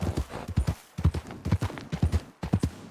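Galloping horse hooves from Red Dead Redemption 2 strike in quick repeating triplet-like groups, close and distinct, with brief gaps between bursts and no voices.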